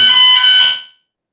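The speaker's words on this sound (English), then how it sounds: "Oh, fire alarm test." Fire alarm going off during a test, a loud piercing electronic tone that holds for under a second, then cuts out to silence.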